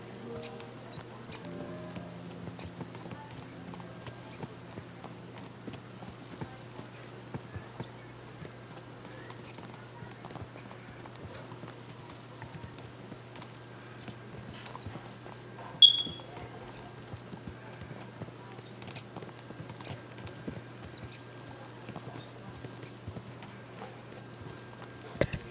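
Horses are spurred on in the video game Kingdom Come Deliverance 2, their hooves clip-clopping in a faint, steady patter under quiet ambient sound, with one sharper knock partway through.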